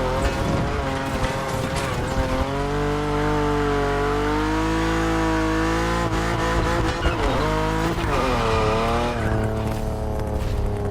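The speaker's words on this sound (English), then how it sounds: "simply use your e-brake and drift back and forth until you get this" A car drifts back and forth under e-brake in the racing game Motorfest, its engine revving hard with rising and falling pitch while tires squeal continuously through long slides, loud and close throughout.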